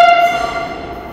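A three-coach Agra Metro train pulls into Mankameshwar station in Uttar Pradesh with a steady, close electric whine that glides slightly downward as it slows.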